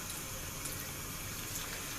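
Soapy water poured out of a container, a steady broadband gush and splash that runs evenly for the full two seconds, fairly quiet with no voices.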